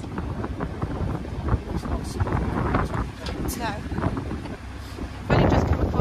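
Strong wind buffets the microphone in a continuous roar beside a narrowboat on the Llangollen Canal in winter, with people talking underneath and a louder gust near the end.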